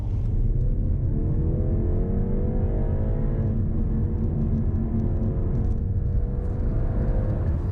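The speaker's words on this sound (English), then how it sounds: "let's get some real-world acceleration figures, starting with the 30 to 70 time" A BMW 330i Touring accelerates hard, heard from inside the car as a loud, steady engine and road rumble with a rising drone that climbs in pitch through a gear, with no talking.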